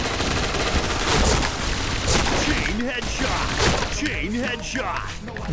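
Rapid MP9 submachine gun fire in the Point Blank shooter game, sharp cracking bursts and repeated shots close up, with someone talking over the gunfire throughout.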